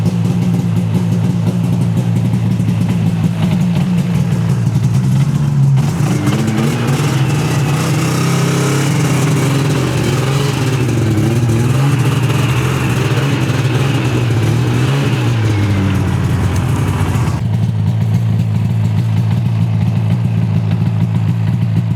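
A snowmobile engine runs near and loud as the machine pulls out of a garage onto the first Michigan snow, idling at first, then revving and climbing in pitch for several seconds before settling back to a rough idle.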